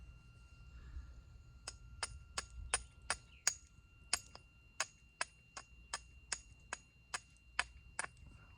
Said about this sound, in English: Take this little edge off, this little edge off, and that should give an opportunity to hit there